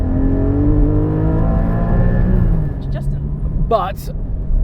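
A Porsche Cayman GT4 engine revs high and steady, its strong tone holding before easing off as the revs drop, with someone speaking briefly over the end.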